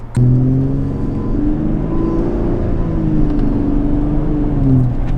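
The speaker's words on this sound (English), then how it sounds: "you finally hear what this engine is supposed to sound like" A turbo V6 car engine with an AWE aftermarket exhaust idles and revs in a low, rumbling drone, with the pitch rising and falling through the whole stretch, loud and close.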